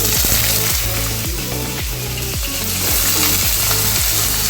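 Soaked pointed gourds frying in hot mustard oil, a steady, loud hissing sizzle under rhythmic background music, with no speech.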